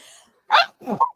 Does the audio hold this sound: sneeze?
yes